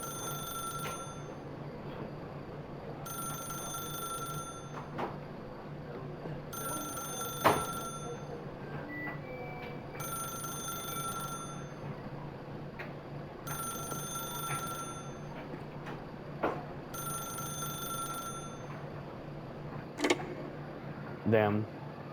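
A telephone in The Stanley Parable rings in repeated double bursts with short pauses, loud and steady for the whole stretch, while someone talks over it at times.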